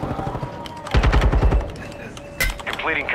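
Gunfire in Call of Duty: Modern Warfare II, a rattling automatic burst in the middle followed by a sharp crack, heard at moderate level under in-game radio chatter and other voices.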